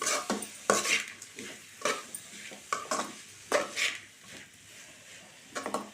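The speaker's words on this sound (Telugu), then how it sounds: "కొంచెం ఉప్పు అలాగే కొంచెం పసుపు మొత్తం బాగా కలిసేలా కలుపుకోవాలి" A carrot fry with salt and turmeric is stirred in a pan, with quiet, irregular spatula scrapes and metallic clinks over a faint sizzle, heard up close without speech.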